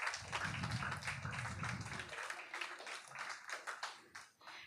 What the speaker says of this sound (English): Let's get another round of applause for the planning department